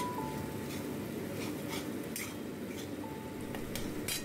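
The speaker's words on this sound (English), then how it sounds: "Fry until the raw smell of ginger paste goes out." Ginger paste frying in a pan with softened tomato for a prawn and bottle gourd curry, giving a steady low sizzle with faint utensil scrapes and clinks throughout, no talking.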